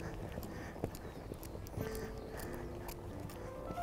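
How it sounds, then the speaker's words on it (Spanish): A horse being schooled at a walk in dressage training, with faint, soft hoof clip-clops in a regular slow rhythm over low background noise. "aquí tenemos el caballo al paso."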